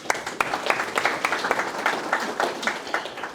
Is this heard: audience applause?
yes